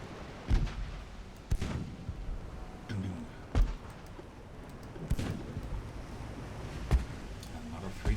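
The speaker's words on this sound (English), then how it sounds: "Stay here and listen to the rumbling of my guns." Heavy naval guns boom in the battleship game Ultimate Admiral Dreadnoughts, with about six sharp, loud blasts spaced irregularly over a continuous low rumble.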